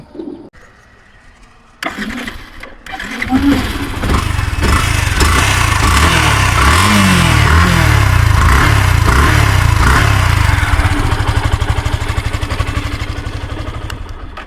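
A Yamaha FZS V2 motorcycle engine starts and runs loudly and steadily nearby, its low rumble holding for most of the stretch with slight revving swells.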